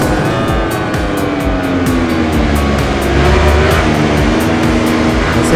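A race bike in MotoGP 19 screams at top speed in sixth gear on a straight at Le Mans, its steady high-revving engine whine loud and continuous throughout.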